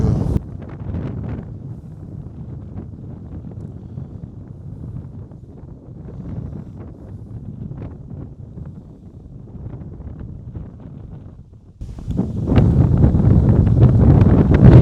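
Gusty wind on a golf course buffets the microphone in a continuous low rumble, easing through the middle and then surging louder near the end.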